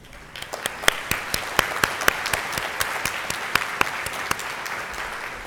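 Audience applause at a statewide substance use disorder conference, a modest scattering of distinct claps from a small crowd, crisp and close, swelling briefly then thinning out.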